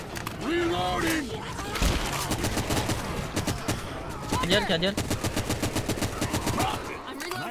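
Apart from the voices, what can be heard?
gunfire in the video game Left 4 Dead 2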